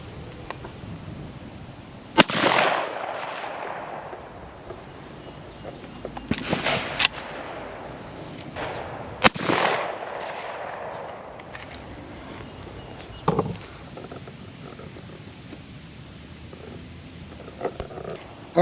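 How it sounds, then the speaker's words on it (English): Shotgun fired with Drylok waterfowl loads outdoors, two sharp loud blasts a few seconds apart, each with a short rolling echo, followed by a fainter crack later on. "two more shots with the dry lock"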